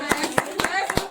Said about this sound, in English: So we'd like to give Khanom a big round of applause